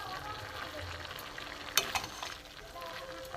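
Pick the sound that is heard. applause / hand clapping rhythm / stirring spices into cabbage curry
stirring spices into cabbage curry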